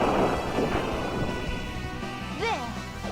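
A fire spell attack in the Valkyrie Profile video game rumbles and crashes in a dense, roaring burst that slowly fades, with rising and falling chime-like tones near the end.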